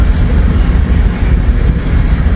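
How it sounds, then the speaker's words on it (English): A long Norfolk Southern freight train passing close by in cold weather: a loud, continuous low rumble and roar with steady rolling texture and no breaks. "Appears to be a nice long train."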